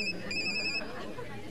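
A telephone rings in a home in the evening, a bright electronic tone sounding once clearly over a background murmur of voices.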